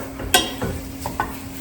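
Sausage browning in a pan for tortellini soup, heard as a soft background sizzle broken by a few brief scraping stirs of a utensil against the pan.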